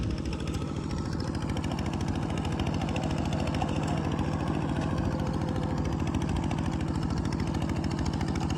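A walking tractor engine chugs steadily while ploughing a rice field at a communal ploughing event, a loud, continuous rapid thumping close by with no letup.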